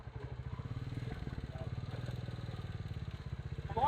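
A motorbike rumbling along an off-road route during a monsoon ride in Jharkhand, its engine chugging in a steady fast pulse, moderately close and faint-to-moderate in level, with no talk.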